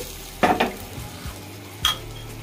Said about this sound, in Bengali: কড়াইটা একটু নাড়িয়ে দিচ্ছি।